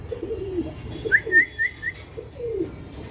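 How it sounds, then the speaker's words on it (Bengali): A female Rabbani pigeon gives a few soft whistling coos in short bursts, moderately close, over a low background rumble with no speech. "দর্শক একটা রব্বানি মাদি কবুতর আছে, যদি কেউ লাগে অবশ্যই দ্রুত নক করবেন।"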